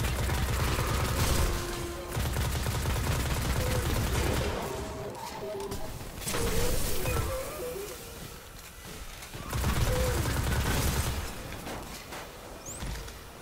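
Rapid automatic gunfire in the shooter Destiny fills the stretch in long, dense bursts with brief lulls between volleys, loud and close, with little talk over it.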